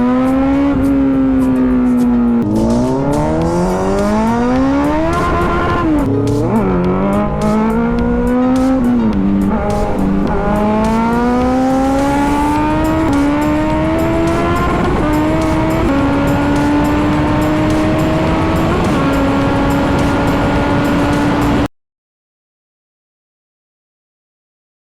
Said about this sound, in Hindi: आज की फुल ऑन तबाही रेस, Z900 वर्सेस Z900